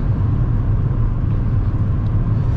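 Inside a moving car on the road, a steady low engine and tire rumble fills the cabin at a constant level, with no voices.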